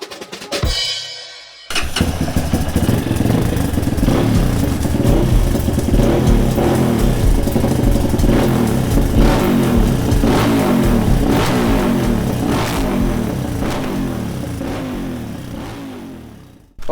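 A Honda CR230F dirt bike with a 30mm pumper carburetor fires up after a short crank and runs steadily, with loud, close engine noise and repeated blips of the throttle rising and falling throughout.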